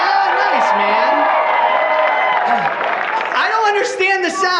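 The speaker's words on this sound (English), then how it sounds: "Yankees, make some noise." A crowd at an Atlanta comedy show cheers, whoops and claps in a loud, sustained roar of voices with shouts rising near the end.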